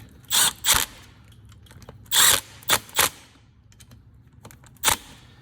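Impact wrench giving short bursts while tightening dirt bike oil drain bolts: six brief buzzing zips in uneven pairs and singles, separated by quiet, close and fairly loud.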